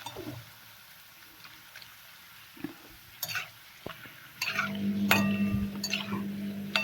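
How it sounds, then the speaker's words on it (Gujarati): Banana chips frying in oil on a slow flame while being stirred, with soft clinks of the spoon against the pan building into a louder, steady sizzle in the last seconds. "હવે સ્લો ફ્લેમ પર આપણે તેને આવી રીતે સતત હલાવતા રહી અને તળી લઈશું"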